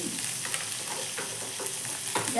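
Ingredients for chutney sizzle and fry in oil in a pan, a soft continuous crackle with occasional stirring scrapes, heard close but fairly quiet, no talking.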